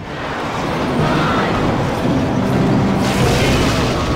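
A sustained, rumbling Rocket spell explosion in Clash Royale with heavy low-end boom, holding steady for several seconds with a brighter burst near the end.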